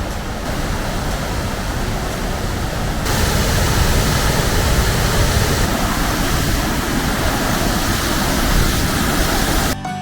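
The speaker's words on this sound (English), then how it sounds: "A raging torrent of a waterfall." The Great Falls of Tinker Creek, a raging waterfall, gives off a loud, unbroken roar of rushing water up close that swells slightly partway through and continues steadily.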